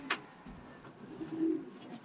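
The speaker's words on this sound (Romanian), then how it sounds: "Ce porumbei e aici?" Racing pigeons in a loft coo softly in short, low murmurs, with a faint tick near the start and a slightly louder coo toward the middle, quiet and nearby.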